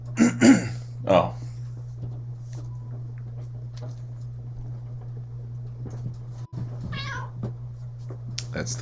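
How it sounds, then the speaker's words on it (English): A cat meows during a Pokemon Violet game session in Area Zero, a few short cries near the start over a steady electrical hum, with a later chirpy call and someone talking. "That's the cat, everybody."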